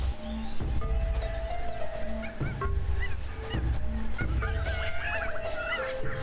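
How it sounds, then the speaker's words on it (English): Honking bird calls ring out in a noisy jungle in Tales of Monkey Island, repeated cries over dense ambient game sound and music, with no talking. "Birds."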